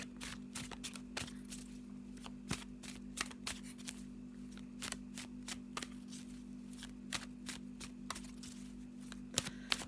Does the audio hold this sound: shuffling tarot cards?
yes